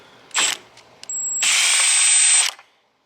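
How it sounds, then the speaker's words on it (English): A ratchet wrench clicks off a 12mm nut on a Lexus IS300 steering column in two bursts, a short one followed by a longer steady run of rapid close clicks, with no talking. "So you're going to go ahead and take off that 12mm nut."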